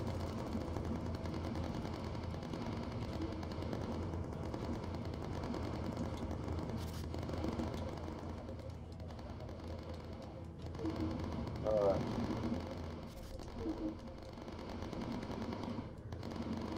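Sustained rapid machine-gun fire from bomber gunners in the video game Bomber Crew rattles steadily under a dense mix of engine drone and battle noise, with a voice talking over it.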